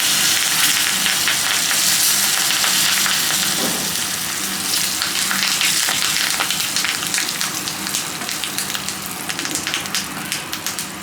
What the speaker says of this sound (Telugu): తాలింపు మంచిగా వేగిపోయింది కదా